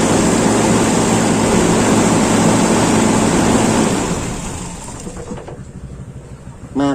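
A Toyota Kijang engine with an Aisan carburetor roars loud and steady at high RPM for several seconds, then winds down and fades to near quiet, ending with a short thump.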